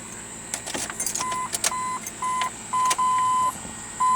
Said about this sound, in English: Get my keys out